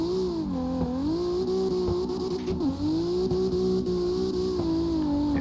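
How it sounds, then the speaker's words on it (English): A 900-horsepower drift car engine holds a loud, steady rev near the listener while the driver downshifts to fourth, with brief dips and recoveries in pitch and a constant droning tone throughout. "got a downshift to fourth"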